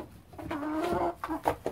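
Cornish cross meat chickens cluck close by in a short, busy run of calls, with no talking over them.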